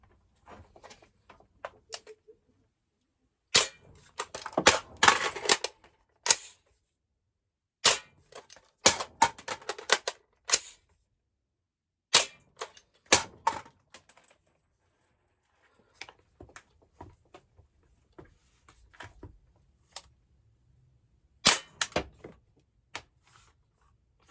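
AR-15 firing UTM training rounds, clusters of sharp, snappy reports in quick bursts with quiet gaps and occasional handling clicks, close and fairly loud.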